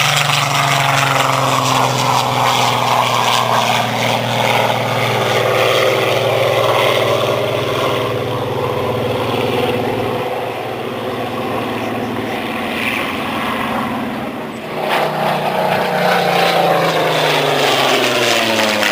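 A Spitfire Mk18 propeller aircraft roars loudly and continuously as it passes close by, its engine drone shifting in pitch as it comes and goes.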